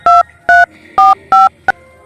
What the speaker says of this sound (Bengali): না পবনের কাছে ফোন করি।